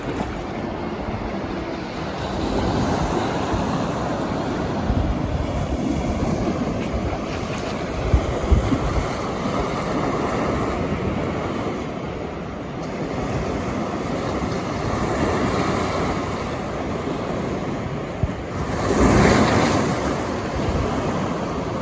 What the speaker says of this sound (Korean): 도시 흑해 파도 소리를 잠시 감상해 볼까요?